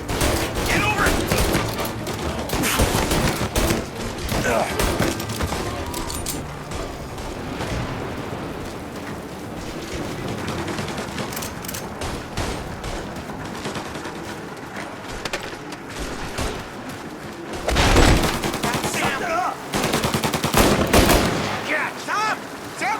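Gunfight in the video game Mafia: Definitive Edition, with dense bursts of rapid gunfire and repeated shots that swell loudly near the end, while voices shout over the shooting throughout.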